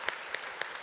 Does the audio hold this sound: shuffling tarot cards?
no